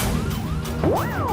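A police siren wails in a housing society, its rising and falling tone sweeping up sharply near the end over a steady background.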